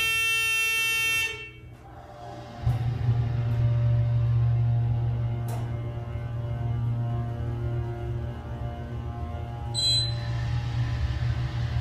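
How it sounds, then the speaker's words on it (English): An OTIS Series 7 Hydrofit machine-room-less hydraulic elevator motor starts after a brief pause and settles into a steady, loud, low droning hum with a faint whine that holds to the end. "Let's listen to the motor now."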